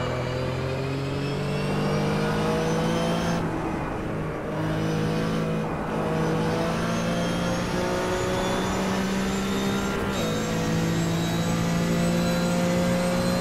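A Porsche RSR race car revs and drones steadily in the Automobilista sim racing game at Spa-Francorchamps, its engine note rising and dropping with gear changes, loud and continuous throughout.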